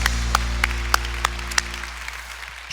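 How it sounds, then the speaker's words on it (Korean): A church congregation claps together in a steady rhythmic beat of about three claps per second, close and fairly loud over a low background hum, with no talking. "주님께 영광의 박수를 올려드립니다"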